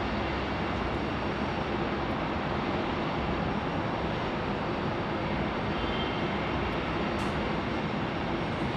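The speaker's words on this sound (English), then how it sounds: "Finally, Air France is moving an A350." An Air France Airbus A350 taxiing at Phoenix Sky Harbor gives off a constant low engine rumble and broad hiss, moderately distant and even throughout, with no voices.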